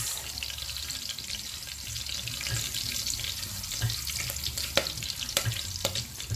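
Courgettes with soya chunks frying in oil, stirred in a pan with a steady sizzle, soft scraping and a few spoon clinks, close and without speech.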